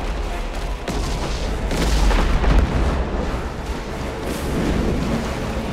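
Ship cannons fire during naval combat in Abandon Ship, heard as a dense, continuous rumble of booms and blasts that swells and fades without clear individual shots.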